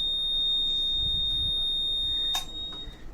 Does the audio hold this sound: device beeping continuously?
yes